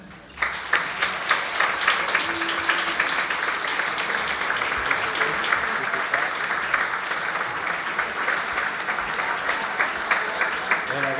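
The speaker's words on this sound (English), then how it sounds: "So, big applause," A large awards-ceremony audience at the 2014 Writers Guild Awards breaks into sustained applause, a dense roar of clapping with sharp individual claps standing out and continuing for several seconds.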